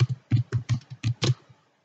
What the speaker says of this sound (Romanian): vi se deschide aici o casetă de text în care puteți să scrieți din tastatură